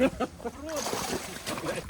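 A live mirror carp thrashes and pulls in the water, giving close, irregular splashes and sloshes while people talk and exclaim over the commotion.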